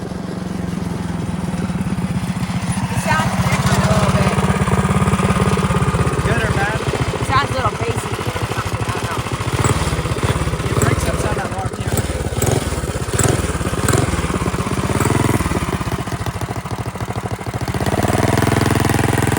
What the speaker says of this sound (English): The idle, it'll probably need to be idled up because the idle will be weaker due to the camshaft and stuff.